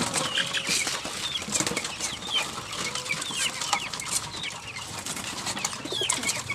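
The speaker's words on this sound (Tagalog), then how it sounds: "Pakainin na natin ito mga kalapatids." Pigeons kept as breeders flutter and flap their wings close by while being fed, with soft cooing and clucking calls mixed into a steady busy flock sound.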